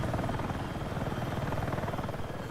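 Helicopter flying in Battlefield 6, a steady close rotor drone with rapid rhythmic chopping that stays constant throughout, no speech.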